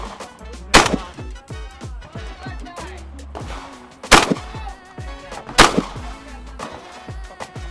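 Gunshots at an outdoor shooting event: three sharp, loud reports spaced a few seconds apart, each with a short echoing tail, over steady background noise and faint talk.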